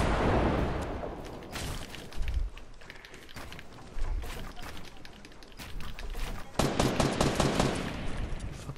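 Rapid video game gunfire bursts, loud and dense, with machine-gun rattles and single shots overlapping throughout, intensifying near the end, while players' voices come through underneath.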